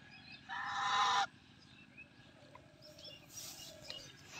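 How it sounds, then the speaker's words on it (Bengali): A goose in Bangladesh gives one fairly loud, short honking call, then fainter, quieter calls follow over low background noise. "কি জানি বলতে চায় রাজহাঁস।"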